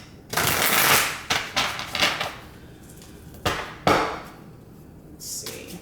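Tarot cards being pre-shuffled by hand during a reading, heard as a series of crisp riffling bursts and slaps with short pauses between them, close and fairly loud with no talking.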